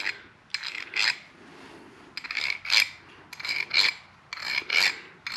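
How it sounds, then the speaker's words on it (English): A metal thread file rasping back and forth in threads to clear out gunk, in four distinct bursts of bright scraping strokes, close and alone with no talk. "you take your file and you use the end right here"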